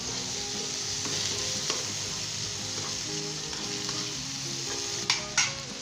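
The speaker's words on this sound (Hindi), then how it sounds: "अब इसके अंदर हम आलू शामिल कर देंगे। मज़ीद 2 मिनट के लिए हम इसे भूनेंगे।" Potatoes fry and get stirred in a pan while cooking Punjabi aloo bhindi, a steady close sizzle running throughout, with a few spatula scrapes and knocks standing out near the end.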